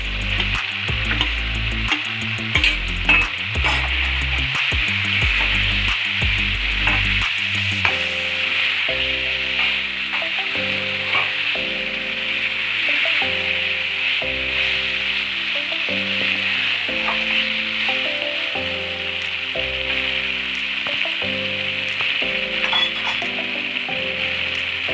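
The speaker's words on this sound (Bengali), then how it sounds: "এবার কষতে কষতে তেল ছাড়ছে, এর মধ্যে এবার আমি বেগুনগুলো দিয়ে দেবো।" Eggplant pieces frying in hot oil in a pan for a Bengali begun bahar, a steady close sizzle with intermittent stirring knocks and scrapes of a utensil throughout.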